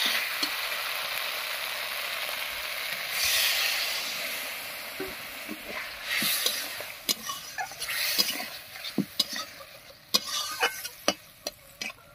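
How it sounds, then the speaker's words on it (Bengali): Spice paste with water and potatoes fries in a covered pan with a soft, steady sizzle and hiss, followed by sharp clicks and stirring scrapes toward the end. "এবারে মশলা বাটা জল দিয়ে ঢাকা দিয়ে খুব ভালো করে কষিয়ে নেব।"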